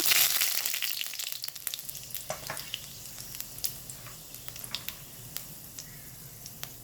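Panch phoron and dry red chilies crackle and sizzle in hot mustard oil in a wok, an intense spitting burst at first that settles into lighter, scattered pops as the spices fry.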